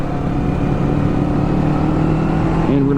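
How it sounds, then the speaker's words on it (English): A 2024 Kawasaki Eliminator cruiser motorcycle's engine drones steadily and close, its tone stepping through downshifts with a brief rise in revs near the end. "I'll go down a few gears here because we got this corner coming up here"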